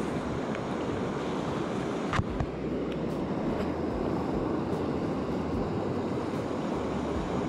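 River rapids where fast water meets a calm stretch, a steady broad rushing wash with light wind buffeting, one brief knock partway through, no voices.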